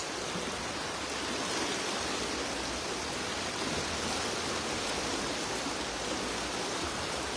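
A fast river current rushes steadily at a fishing spot, a dense, even broadband wash of water that stays constant and fairly loud throughout, with no voices.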